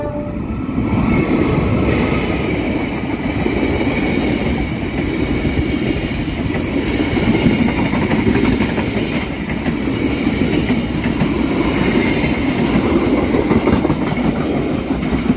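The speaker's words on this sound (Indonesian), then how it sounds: "Kereta api Batu Raden dari stasiun Bandung tujuan akhir stasiun Purwokerto melintas langsung stasiun Karangsari" The Batu Raden passenger train from Bandung to Purwokerto rumbles steadily past up close without stopping at Karangsari station, Indonesia, wheels clattering over the rails in a continuous loud roar with no talking.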